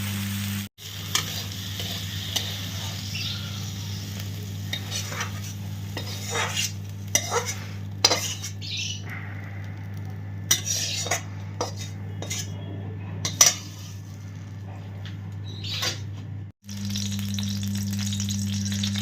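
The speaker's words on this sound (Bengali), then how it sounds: "এবার বেগুনটা তুলে নিচ্ছি।" Fried eggplant lifted out of a pan of hot oil, with a spatula stirring and scraping amid steady sizzling, sharp metal clicks and knocks scattered throughout, and a low steady hum beneath.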